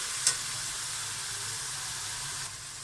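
Chicken frying in a pan, a faint, even hiss of sizzling oil with one small click near the start and little other movement.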